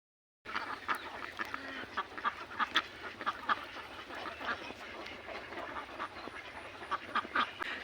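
A flock of farm ducks at a riverside duck farm quacks continuously as they gather to feed, with many overlapping calls at moderate distance and no talk.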